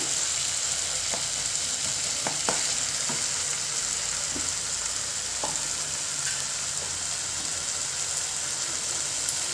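Thinly chopped capsicum frying in a pan of dhaba-style egg keema masala, a steady broad sizzle running throughout with occasional soft scrapes and clicks of stirring, close and fairly loud, no voices.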